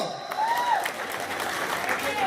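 An audience at an Odia jatra show applauds in a steady, dense wash of clapping, with an amplified voice carrying over the crowd.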